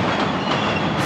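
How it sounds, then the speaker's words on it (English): Train rumbling and clattering across a bridge over the Sumida River at night in Asakusa, Tokyo, a loud, dense, continuous rush of wheels and rails with no voices. "So that's the train."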